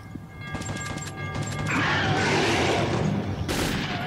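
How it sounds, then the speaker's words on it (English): Gunfire in the video game Metro 2033: a rapid string of close shots rattles off quickly, then gives way to a loud, crashing wash of noise with a final sharp burst. "Can't stop them, Hunter! Keep firing"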